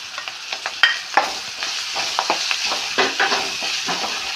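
Finely chopped onion with crushed ginger and garlic frying in hot oil, a bright steady sizzle with quick scraping stirs of a spoon against the pan, close and fairly loud.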